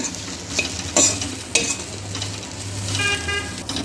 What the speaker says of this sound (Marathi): लसूण टाकायचं, आलं, सर्व व्यवस्थित मिक्स करायचं आहे